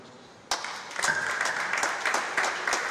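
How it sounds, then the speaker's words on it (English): Applause from a conference audience bursts in suddenly after a quiet moment and keeps going as a dense, steady clatter of many hands clapping together. "a round of applause"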